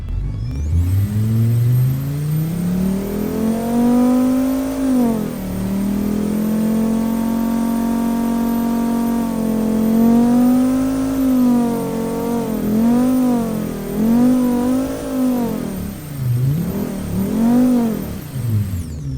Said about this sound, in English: let's hear this inline 5 engine